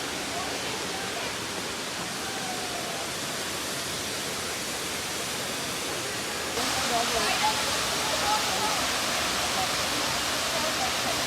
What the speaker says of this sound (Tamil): வாட்டர் ஃபாலே ரொம்ப டிஃப்ரெண்ட்டாக இருக்குங்க.